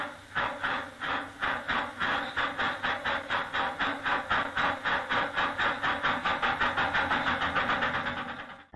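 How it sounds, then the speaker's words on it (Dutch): A small replica of the first Amsterdam–Haarlem steam train runs past exhibition buildings, chuffing in a steady rapid rhythm of regular exhaust beats that hold level, then fade slightly at the end. "Rondom de tentoonstellingsgebouwen rijdt een treintje dat geheel overeenkomstig is aan de eerste trein"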